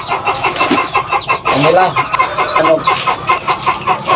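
Farm chickens cluck and chatter loudly and close by as they are given homemade feed, making busy overlapping calls, with a person speaking briefly among them.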